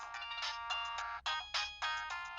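A phone ringtone on speakerphone plays in repeated bursts of electronic melody with brief gaps between them, fairly clear and alone with no talking.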